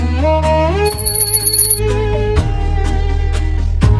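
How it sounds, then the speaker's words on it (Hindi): Bell ringing clearly over a steady musical drone, a bright sustained tone early on followed by repeated sharp strikes at a regular pace, loud and close with no voices. "क्या पता इस घंटी की आवाज सुनकर ये लाबूबू भाग जाए"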